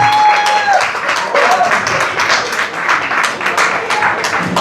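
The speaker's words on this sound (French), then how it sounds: "Je vous demande d'applaudir" An audience applauds loudly and continuously, a dense crowd of clapping hands at close range with a voice briefly heard over it at the start.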